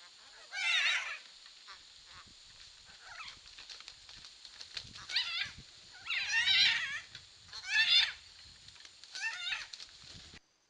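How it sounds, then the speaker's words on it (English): A pair of blue-throated macaws in a nest box with large chicks erupt in harsh, raspy squawking bursts, five or six loud screeching outbursts separated by short pauses and scratchy shuffling, close and without any voices. "We only recorded these blue-throated macaw pair fights when the chicks were over 75 days old"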